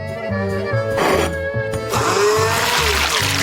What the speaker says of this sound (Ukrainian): Кладемо рибу в блендер і подрібнюємо.